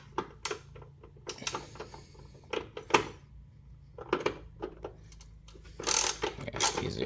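Ratchet wrench working bolts during an intake install on a Genesis G70 3.3T, short bursts of fast metallic clicking near the mic, broken by pauses and small knocks from the engine bay.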